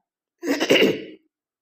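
One short, sharp cough bursts out alone, close and fairly loud, then silence.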